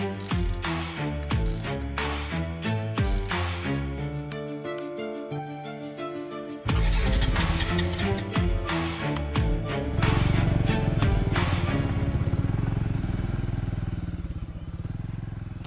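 A motorcycle engine runs and revs steadily, close and loud, with mechanical clatter and a rising drone as the bike pulls away, faint voices underneath.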